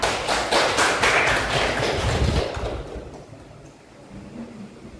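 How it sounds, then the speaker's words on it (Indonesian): Students in a classroom give a short round of clapping during an English lesson, a burst of uneven, close hand claps and taps that dies away after about three seconds into quiet room noise. "Tepuk tangan."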